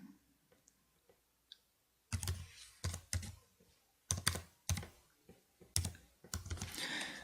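Typing on a computer keyboard, close and crisp, with scattered key clicks at first and then bursts of quick tapping, nothing else heard.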